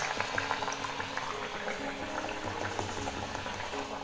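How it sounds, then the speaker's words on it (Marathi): Bottle gourd vadas deep-fry in hot oil, a steady, dense bubbling and crackling that stays close and loud throughout with no talking over it. "तर आता अशा प्रकारे मस्त असे वडे ना मी तळून घेते"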